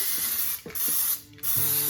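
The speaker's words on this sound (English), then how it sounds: "I use a cooking spray" Cooking spray hisses from an aerosol can in three short bursts, greasing a Bundt pan up close with brief pauses between them and no talking.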